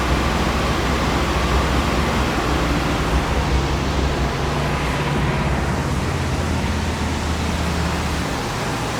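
A 1956 Buick Century engine runs off its fuel tank, a loud, continuous broadband rumble that holds steady throughout without pauses.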